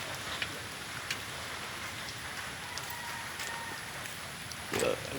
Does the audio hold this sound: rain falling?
yes